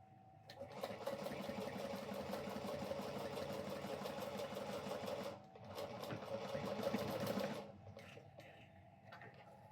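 A sewing machine stitches a crossbody bag in a loud, rapid, steady whir of needle strokes close by. It pauses briefly, then runs again and stops, leaving quiet.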